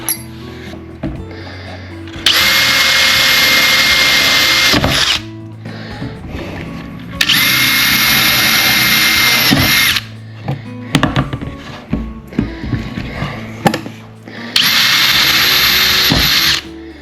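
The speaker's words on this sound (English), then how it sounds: "This first hole goes all the way through and out the back." A power drill bores a hole through a bass boat windshield in three long, loud, steady whining runs of about three seconds each, close by, separated by quieter clinks and handling noises.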